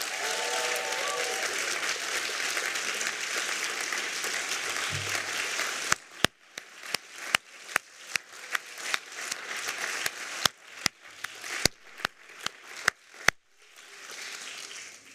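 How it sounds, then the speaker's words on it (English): A crowd at a law and business graduation ceremony applauds steadily for several seconds, then the clapping gives way to scattered sharp claps before a short swell of applause returns at the end. "give a round of applause to your parents,"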